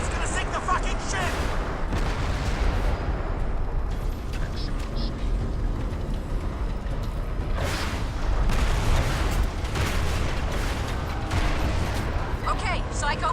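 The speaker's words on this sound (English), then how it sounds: "Deal with those turrets, Nomad! It's gonna sink the fucking ship!" Turrets aboard a ship in the video game Crysis fire amid a continuous roar of heavy booms and gunfire, with rumbling explosions throughout. Voices shout over the din.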